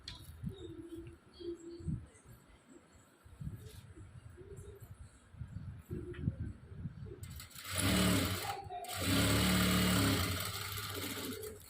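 After a quieter stretch of faint room sounds, a sewing machine stitching a prince-cut blouse starts up close and loud, running in a fast, steady whir with a brief pause before continuing.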